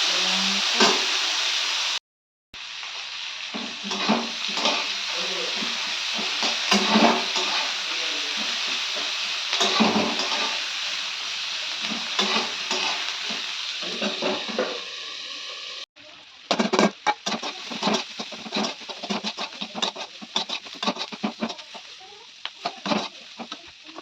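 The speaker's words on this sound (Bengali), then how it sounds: "আমি করলাটা দিয়ে দিয়েছি আর এবার করলাটা ভালোভাবে নেড়ে নেবো" Bitter gourd stirred while frying in a pan for a chorchori, a close, steady sizzle with repeated scraping strokes, cut by a brief gap near the start and a shift to choppier stirring later.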